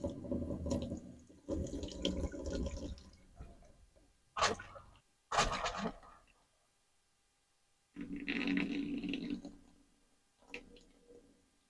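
Hot water gushes from a faucet into the sink of an Arctic Fox fifth wheel trailer during winterizing, splashing in several bursts separated by quiet pauses.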